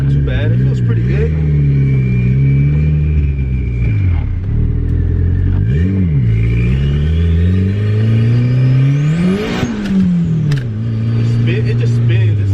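A turbocharged 270 WHP Honda Integra with a B20V engine and drag radials pulls hard on a wet street, its engine loud and close as it rises and dips repeatedly while the tires spin, with a turbo whistle climbing over the rumble and voices heard inside.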